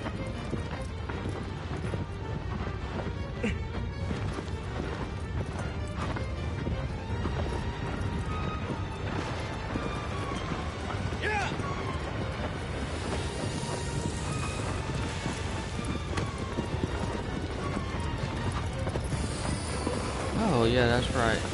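A horse gallops steadily in Shadow of the Colossus, its rapid hoofbeats running through a dense, constant wash of game music and effects that swells slightly near the end.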